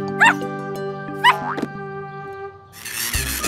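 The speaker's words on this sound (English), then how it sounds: "The puppy is calling his friends over for a competition." Two sharp, high cartoon puppy yips ring out a second apart over a sustained musical tone, followed by a softer trailing whine and a burst of noise.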